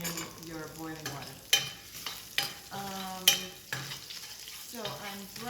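Food browning in a pan for a simple tomato sauce, with steady sizzling under repeated stirring scrapes and knocks, close and moderately loud, with no talk.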